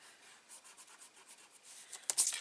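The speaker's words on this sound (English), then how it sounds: "you can just grab a rubber if you've got any marks left over" An eraser rubs out leftover pencil marks on the back of a handmade gatefold shutter card, soft faint scrubbing strokes in a quiet room, ending in a brief louder scrape.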